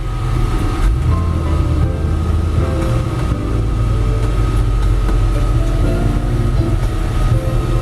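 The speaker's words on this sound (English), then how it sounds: "We're going to take it for a drive here" A 1932 Ford three-window coupe street rod with overdrive cruises down the road, its steady, loud engine and road rumble droning continuously from inside the cabin.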